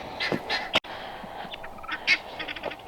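Harsh, raspy guinea fowl calls repeat in short bursts at moderate distance, with a sharp knock partway through and some background rustling.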